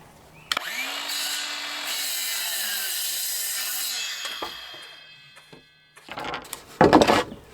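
Power saw ripping wooden boards into strips for 5.5 inch square porch post wraps, a loud steady whine running for several seconds, then trailing off before a burst of clattering handling noise near the end.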